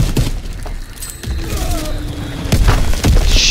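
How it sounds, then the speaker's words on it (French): An enemy bomb goes off in Call of Duty WWII multiplayer: a heavy boom with thuds and debris over a few seconds, close and loud, with brief game voice over the top. "Bombe ennemie larguée."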